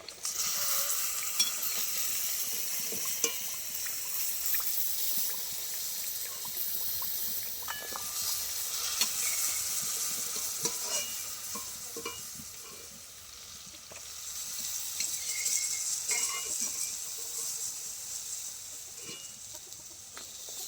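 Fried khaja sweets are stirred into hot sugar syrup, giving a steady wet bubbling sizzle with scattered small clicks and scrapes, distant clucking of chickens faintly in the background.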